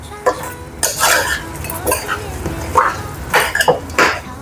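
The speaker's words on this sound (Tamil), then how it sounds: "அதெல்லாம் போட்டு ஒரு கிண்டுவோம்." Whole spices such as cloves stirred in a cooking pot, a few clanking metal scrapes and knocks in uneven bursts, close and fairly loud, with a brief voice sound in between.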